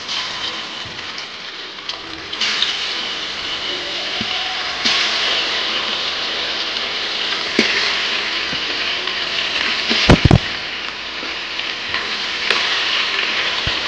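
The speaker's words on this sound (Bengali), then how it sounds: "বাদ বাকি মাছগুলো এখন আমি সমড়ে নিচ্ছি।" Fish sizzles steadily in a hot pan of oil, a continuous crackling hiss with occasional sharper pops and clatters, close and alone without voices.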